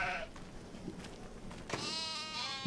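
Sheep and lambs bleating in the farming video game Farming Simulator 25, several overlapping calls with a longer wavering bleat near the end, steady and moderately loud, no talk.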